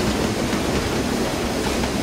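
A J50 steam train running on the Western Lines of Scotland in Train Simulator 2015, giving a dense, steady rolling roar with faint clickety rhythm, loud and continuous with no talk.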